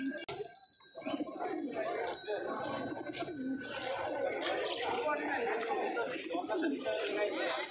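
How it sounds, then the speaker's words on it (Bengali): Pigeons, including racing pigeons, coo at a crowded pigeon market. Soft cooing carries throughout beneath the steady chatter of people talking nearby. "অনেক ভালো ভালো কবুতর আছে, আপনারা চাইলে আসতে পারেন, কম দামে কবুতর কিনতে পারবেন"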